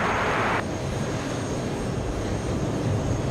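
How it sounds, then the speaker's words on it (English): A small executive jet takes off from JFK airport, its engine roar a loud, steady broadband rush that holds evenly throughout without a break. "we haven't shown you much of the exec jets taking off"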